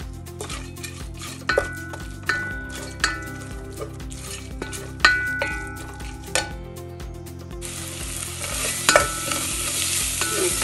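Mushroom biriyani masala with turmeric and garam masala being stirred in a pan, with a spatula clinking and scraping against metal in an irregular rhythm over a low sizzle that turns into a brighter hiss toward the end.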